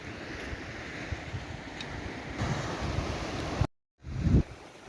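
Sea waves wash onto a white-sand beach, a steady broadband roar of surf with wind buffeting the microphone, briefly cutting out near the end before resuming louder.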